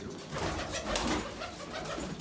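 Pigeons cooing in a backyard loft, with soft, repeated throaty coos under steady rustling and broadband noise.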